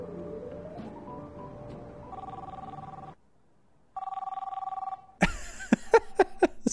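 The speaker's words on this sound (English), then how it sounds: "Phone's ringing" A telephone rings in The Big Lebowski, two bursts of a warbling electronic ring separated by a short silence, followed by sharp clattering knocks.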